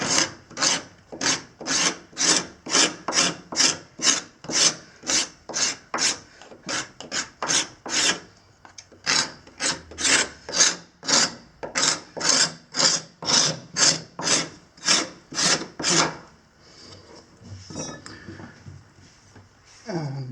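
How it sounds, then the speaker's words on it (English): A straight draw knife scrapes old glue off a wooden stair in steady, rhythmic rasping strokes, roughly one per second, close and clear, pausing briefly midway and breaking off near the end. "To do that I used the little draw knives, a straight one for the straight edge."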